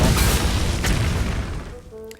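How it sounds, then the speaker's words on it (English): A bomb detonates in the Hearthstone card game with a loud, booming explosion that rumbles and fades over about two seconds, followed by a short chiming tone as it settles. "Now Bomb landing into him, 4 damage"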